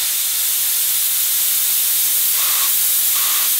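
Steady broadband hiss of an automotive paint spray gun running continuously with its fan wide open, fairly loud and close, with a couple of faint brief tones near the end.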